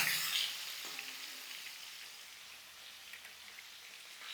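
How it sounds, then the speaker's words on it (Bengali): Potatoes frying in a pan while being stirred with a spatula for a Kashmiri-style aloo dum: a steady, hissing sizzle throughout, louder at the start and easing into a soft continuous crackle, with no voices. "একটা খুন্তি দিয়ে এটাকে আমি ভেজে নেব।"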